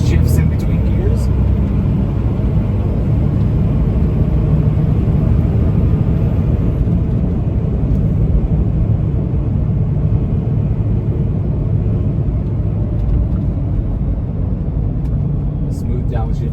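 Inside a Peterbilt 567 dump truck with a 4500 Series Allison transmission, a loud, continuous engine and road rumble fills the cab as the truck drives and shifts gears smoothly.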